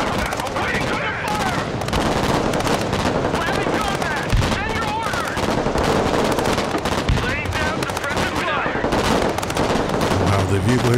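Vehicle-mounted machine gun fire in a Broken Arrow battle for an island town, rapid rattling bursts mixed with other gunfire and distant blasts, loud and continuous throughout.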